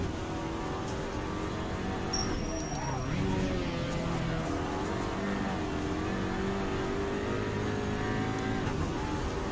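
A Skoda Octavia Cup front-wheel-drive race car in Assetto Corsa accelerates hard around Zandvoort, its engine note rising and falling through gear changes for several seconds, moderately loud and steady with brief tire noise.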